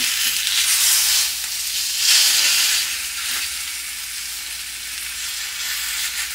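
Chicken skin sears in hot oil in a pressure cooker insert, giving a steady, close, bright sizzle that swells briefly before settling into a continuous frying hiss with no talking.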